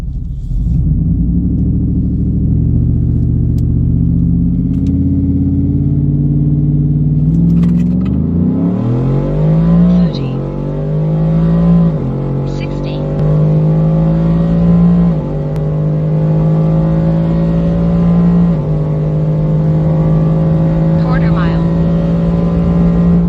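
A Coyote V8 Ford F150 running E85 on Raystar wheels makes a hard quarter-mile drag pass. The loud, continuous engine climbs in pitch through each gear, with short dips at the shifts, and roars steadily to the end.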